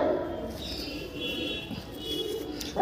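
Pigeons cooing softly in a loft, low murmuring calls running steadily throughout with faint bird noise above, no talking.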